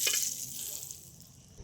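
Rice fried with peas, carrot and capsicum sizzles in a pan, a soft steady hiss with a brighter burst at the start as the ingredients go in, no voices.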